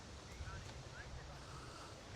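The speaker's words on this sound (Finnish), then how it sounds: "Tää tuuli on kyllä kova." Strong wind buffets the microphone in a continuous low roar, loud and close, with no pauses.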